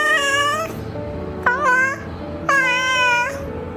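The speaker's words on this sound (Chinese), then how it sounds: "三、拉长的喵喵叫，" A pet cat gives long drawn-out meows, three close, clear calls in a row, the middle one shorter, with a faint steady hum underneath.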